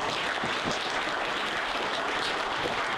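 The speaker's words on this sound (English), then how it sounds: "So round of applause for everyone." A crowd applauds donors at a fire district community meeting, dense steady clapping lasting the whole few seconds at a moderate level, with no talking.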